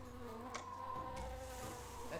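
Jungle insects and bees buzz steadily in Tales of Monkey Island, a continuous droning hum with a few brief sharper chirps layered over it, no voices.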